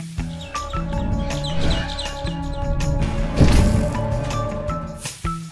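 The Opila Bird monster from the video game Garten of Banban gives bright chirps and tweets over a busy game soundtrack of tones and thuds, loud and close for several seconds.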